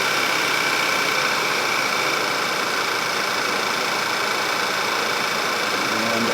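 An air conditioning compressor runs in a 2011 Volkswagen CC with a fault where the A/C blows warm, giving a loud, steady mechanical drone with an engine idling underneath that holds unchanged throughout.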